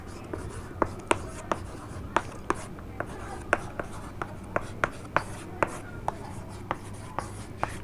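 The word "read" being handwritten during an English grammar lesson: a steady run of short, crisp pen strokes and taps, close by, over a low constant hum with no talking.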